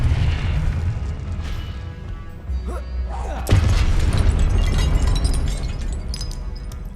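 Confringo blasting spells exploding in Hogwarts Legacy: a low roaring blast bed, then a sharp louder detonation about halfway through with crackling debris trailing off, combat noise throughout.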